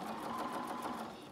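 A sewing machine stitches steadily around the top edge of a fabric surgical cap made from a fat quarter, a close, continuous whirring hum with no talking.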